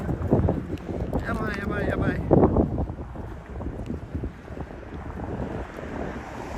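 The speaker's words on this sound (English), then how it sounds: "Oh, it's windy." Gusty wind roars against the microphone in a continuous low rush while a person speaks excitedly over it, walking in Hakone toward Lake Ashinoko, Japan.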